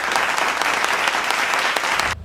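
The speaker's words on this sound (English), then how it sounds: "let's give a round of applause to Michael Zaki and his team." A crowd's round of applause for Michael Zaki and his team: dense, steady clapping, loud and close, running for about two seconds before cutting off abruptly.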